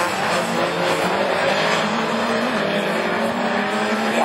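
A rallycross car braking hard at Châteauroux in a division 4 race, a loud, continuous roar of engine and tyre noise held at close range for a few seconds without a break.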